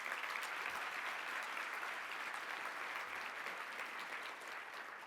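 Audience applause at a United Way annual meeting, a steady, dense wash of many hands clapping that holds at an even, fairly distant level throughout with no talk over it.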